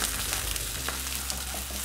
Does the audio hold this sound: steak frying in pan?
yes